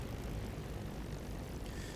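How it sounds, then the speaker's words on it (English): A close, loud Spitfire Mk IX aircraft engine in a flight simulator drones steadily throughout, a continuous low rumbling roar with no voices. "Sounds like an aeroplane very, very close to me."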